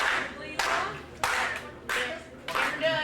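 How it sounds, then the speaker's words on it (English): A wrestling crowd claps along in steady unison, bursts of applause swelling and fading in a repeating rhythm around an arena. "Crowd is clapping along."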